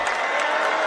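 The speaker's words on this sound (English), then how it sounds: "Crowd goes crazy." Crowd at a high school boys basketball game erupting in loud, sustained cheering and applause, a dense continuous roar filling the gym.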